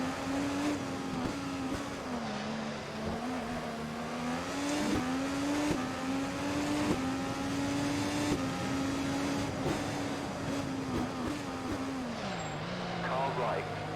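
IndyCar race car engines on the Adelaide circuit drone loudly and continuously, the pitch rising and dipping with gear changes, with brief swells as other cars run alongside and pass.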